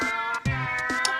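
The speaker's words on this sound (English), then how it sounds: "lots of cat noisemakers." Cat-meow noisemakers sounding during a Pokémon Battle Revolution stream, several quick, close meows in succession, loud and clear with no talking.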